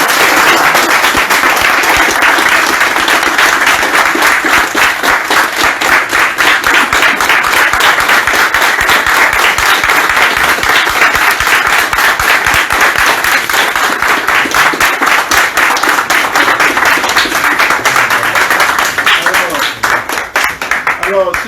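Loud, dense applause from a crowd at a youth coalition press conference fills the whole stretch, steady continuous clapping close by that eases slightly near the end.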